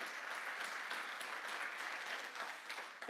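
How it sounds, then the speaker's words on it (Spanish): A church congregation claps steadily to welcome a new member, a soft, even wash of applause at a moderate distance that holds throughout. "Les damos una cordial bienvenida a Pierce Drake. Por favor, un aplauso."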